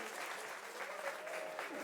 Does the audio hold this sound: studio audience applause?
yes